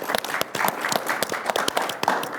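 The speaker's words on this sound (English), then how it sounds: "we can clap to that" Indoor audience at a music-industry copyright talk clapping, a short burst of scattered, moderately loud handclaps from a modest crowd.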